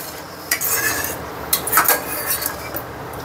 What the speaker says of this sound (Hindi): चीनी को अच्छे से हम मिक्स कर लेंगे इस तरह, जिसमें हमारी चीनी अच्छे से घुल जाए।